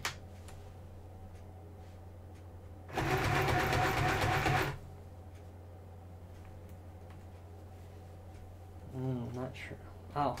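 A home sewing machine runs in one steady, close burst of fast stitching for about two seconds while a Halloween costume is sewn. Quiet room hum surrounds it, and a voice speaks briefly near the end.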